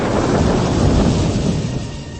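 Thunder rumbles through steady rain on a night scene in a Malayalam radio drama, loud and continuous across the short stretch before easing slightly at the end, with no speech.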